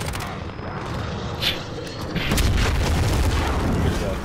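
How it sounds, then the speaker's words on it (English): Precision airstrike explosions in Call of Duty: Modern Warfare, a muffled boom followed by a heavier rumbling barrage of blasts that swells and holds toward the end, with faint voice chatter mixed in. "Allied precision airstrike incoming."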